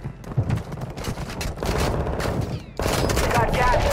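Gunfire in a video game comes as rapid bursts of shots, loud and close, with brief gaps between bursts and a voice talking in the mix.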